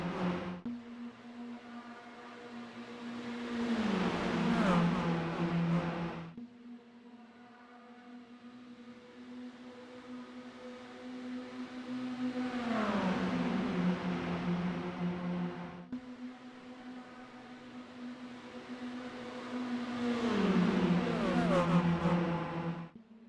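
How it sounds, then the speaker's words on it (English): Mini stock race cars run flat out around the Charlotte oval, engines swelling loudly three times as packs pass close by, each pass rising and falling with a steady drone from cars further off between them. "I think these guys are going to be foot to the floor the whole entire time, to be honest with you. Because of how these cars sound."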